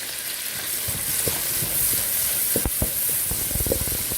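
Chard stalks sizzling in a pan during outdoor cooking in the rain, a continuous hiss dotted with sharp crackles and pops that thicken toward the end, close and fairly loud with no voices.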